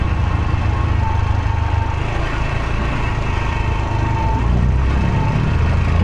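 Yamaha YBR125 motorcycle riding on the road during a commute, its steady engine drone and wind rumble loud and continuous throughout, with no talk.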